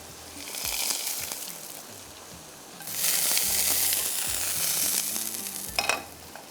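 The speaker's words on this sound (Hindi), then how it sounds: "लहसुन फ्राई हो चुका है" Garlic frying in a pan for a bhuna qeema and raita meal, a steady close sizzle that swells louder midway, with a few scraping stirs and no voices.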